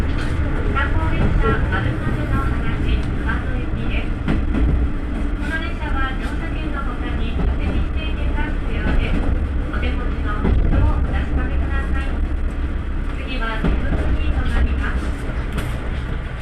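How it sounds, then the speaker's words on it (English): Tourist train Maru Maru no Hanashi running on the JR West Yamaguchi Line, giving a steady, loud interior rumble and rattle throughout, with faint voices and clacks heard under the constant noise. "train continues on the Yamaguchi Line towards its next stop, Jifuku."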